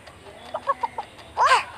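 Rembo the chicken in an Upin Ipin mobile game clucks in a few short, close bursts, ending in a louder squawk, with no talk.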